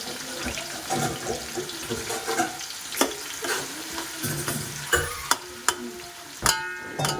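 A ladle stirs and mixes mutton biryani, made with a kilo each of mutton and rice, in a pot at home, giving wet scraping and sloshing with a few sharper clanks of the spoon against the metal rim.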